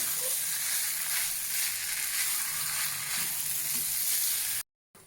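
Rice with pav bhaji masala sizzles steadily as it is mixed on a hot tawa for Mumbai-style tawa pulao, a continuous frying hiss with faint scraping of the spatula, cutting out briefly near the end.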